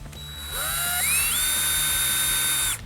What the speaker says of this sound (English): go ahead and drill some pilot holes for your screws